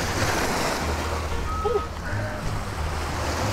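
Sea surf at Can Gio beach, a steady roar of waves and wind buffeting the microphone, with a brief faint tonal sound partway through and no clear talk.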